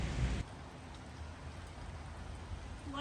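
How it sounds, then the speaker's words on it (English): Rain mixed with wet snow falling during a May snowstorm, a soft, steady patter and hiss after a brief louder bump at the start, fairly quiet and continuous with no voices. "There is still some rain in there too, but whatever."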